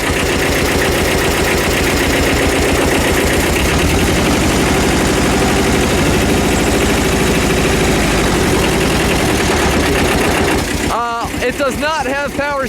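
A small Kubota tractor engine chugs loudly and steadily up close with a rapid rhythmic putter, cutting off near the end as a few other noises follow.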